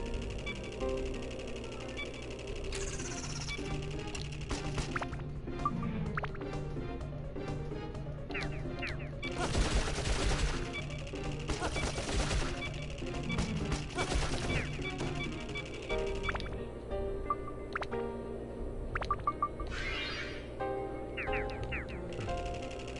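Bursts of rapid gunfire erupt during Dark Cloud gameplay, with dense rattling volleys and crashing impacts layered over game music and effects, with no voices.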